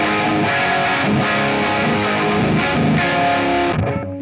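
Electric guitar played through a CGT PEA-V crunch amp profile on a ToneX unit, a loud, continuous distorted rock chord passage that rings out and cuts off near the end, with no talking.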